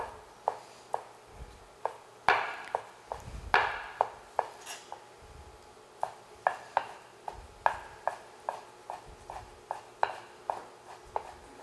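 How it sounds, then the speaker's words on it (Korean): Knife julienning vegetables on a cutting board: a steady series of sharp, close taps, around two per second, with a few louder knocks and some scraping between cuts, no talk. "이렇게 이제 채를 썰어 주시고요"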